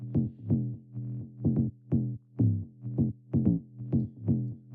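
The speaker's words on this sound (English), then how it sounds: "I've gone and added an 808 top layer to the bass," Distorted 808 top layer on a tech house bassline, a gritty, rolling run of punchy bass notes in a fast, syncopated pattern, loud and alone with no talk.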